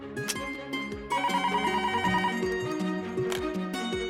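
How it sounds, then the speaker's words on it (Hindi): A telephone rings loudly and continuously with a bright electronic ringtone melody, repeating tones over several seconds, heard up close in a home during a Hindi TV serial, with no voices. "हो, चंचल दीदी का फोन है।"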